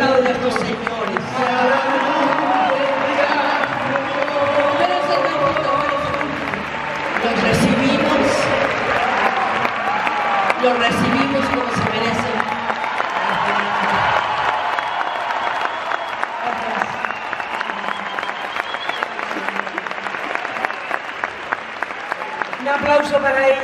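A crowd at a live Las Mañanitas performance applauds steadily and fairly loudly for over twenty seconds, with some cheering and an announcer's voice talking over the noise.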